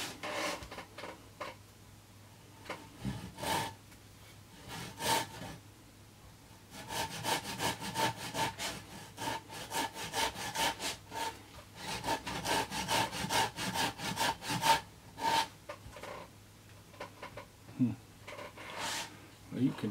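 Hand saw cutting through a piece of firewood, steady back-and-forth rasping strokes in irregular bursts with short pauses, close and fairly loud.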